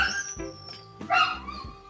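Puppies bark and yip for their food at feeding time, loud and close, in a few short sharp bursts with brief gaps between them.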